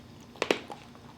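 Crunchy chewing of a Mr Beast almond chocolate bar, a couple of sharp close bites followed by quieter munching, with no talk.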